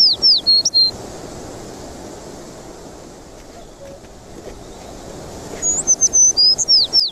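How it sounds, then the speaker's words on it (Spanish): Small birds sing in a wooded park in the morning, with bright twittering phrases at the start and again near the end, separated by a quiet stretch of soft background hush. "Diego se detiene y escucha atento el cantar de los pájaros"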